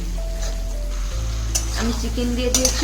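Chicken pieces sizzling in fried spice masala for a Bengali-style chicken and potato jhol, a steady frying hiss under a low hum, with a couple of brief clattering stirs of the pan.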